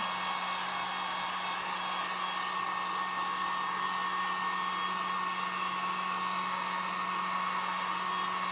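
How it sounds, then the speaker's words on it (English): A hair dryer blows steadily on a handmade craft door hanger, a constant even whoosh with a faint motor hum throughout, close and uninterrupted. "I'm just drying this up, guys."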